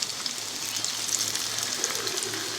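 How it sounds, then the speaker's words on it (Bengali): Cabbage pakoras deep-fry in oil over lowered heat, producing a constant soft, bubbling hiss with no voices over it. "আমি চুলার আঁচটা কমিয়েই লাল লাল করে ভেজে নেব"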